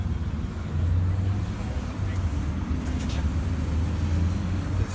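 A Ferrari 360 Challenge Stradale passes on a Southern California street, its engine a steady low drone amid general traffic noise, moderately loud and continuous throughout.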